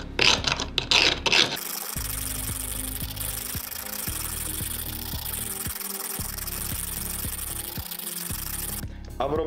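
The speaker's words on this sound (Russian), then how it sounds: "Прохожусь надфилем. Таким образом мы удалим излишки припоя." A needle file rasps back and forth over a joint made from washers, removing excess solder in steady, close, repeated strokes, with a few brief knocks at the start and end.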